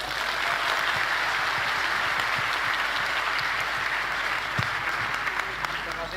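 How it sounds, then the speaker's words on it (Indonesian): An audience at a talk on humanity and urban civilization in Surabaya applauds warmly, a dense, sustained wash of many hands clapping at full strength from start to finish, with no voices standing out. "Tepuk tangan yang meriah sekali lagi untuk Bung Rocky Gerung."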